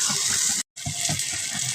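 Water is poured into a pot of fish curry in a steady, close gush that cuts off abruptly for a moment and then resumes.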